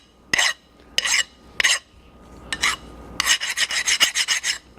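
A hand file scrapes burrs off the edges of a machined metal part, short rasping strokes at first, then a quicker run of repeated strokes, close up with no talk.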